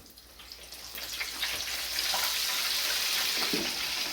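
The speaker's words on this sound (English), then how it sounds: "we have gotten them all battered up and they are ready to drop into the grease" Battered frog legs sizzle in hot grease, a steady bright crackling hiss that swells as they drop in and settles into continuous loud frying with scattered pops.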